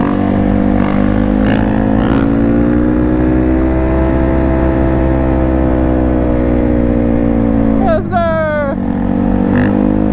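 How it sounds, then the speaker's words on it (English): A motorcycle engine held against its rev limiter gives a loud, steady high-revving drone with a harmonic whine that holds for several seconds. A sharp rising rev burst follows, with voices in the background. "I had a rev limiter right there"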